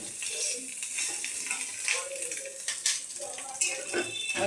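Fish curry with peas bubbling and sizzling in a pot, a steady wet simmering hiss with faint clinks running throughout at moderate level, with no talk over it.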